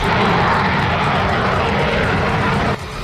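Su-34 fighter jet roaring loudly and steadily as a broad, continuous engine rumble, holding constant before dropping slightly near the end.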